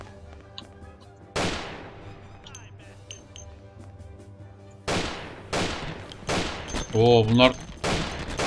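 Gunfire rings out in the video game Mafia: sharp, loud shots come singly and in short bursts with quiet gaps between them, and a few brief spoken words are heard.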